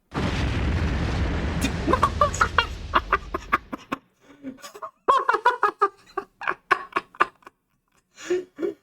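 A loud explosion from the Resident Evil Remake video game opens with a deep rumbling boom that fades over a few seconds, followed by sharp, clucking bursts of game sounds.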